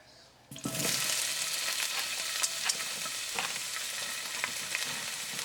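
Peppers frying in olive oil over medium heat, a steady bright sizzle that bursts in after a brief quiet start and holds close and loud, with occasional sharper pops and crackles.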